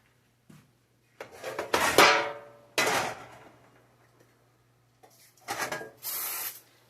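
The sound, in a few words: spraying cooking oil on tater tots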